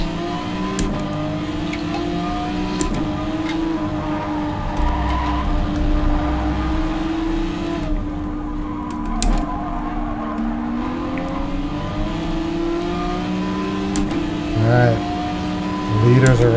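Race car engines roar and whine through gear changes in a racing video game, with squealing tires and shifting pitch as cars brake and accelerate, a voice talking over the top.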